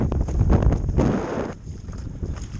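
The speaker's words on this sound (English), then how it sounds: "It may be that this wind passes." Strong wind gusts over open sea along the coast at Weston-super-Mare during paddle boarding, roaring hard against the microphone before easing to a lower, steady rush.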